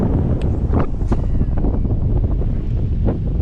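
Strong wind buffets the microphone beside a private farm pond while a fishing line is cast into it, a constant roaring rumble with faint clicks and rustles on top and no talk.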